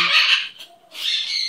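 A pet parrot squawks loudly and close up in two harsh bursts separated by a brief pause.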